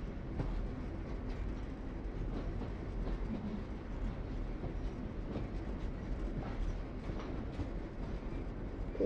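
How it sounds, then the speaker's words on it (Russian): A train passes in the video game The Walking Dead: The Final Season, giving a steady, continuous rumble with faint rhythmic clatter throughout and no talk. "Это звук поезда?"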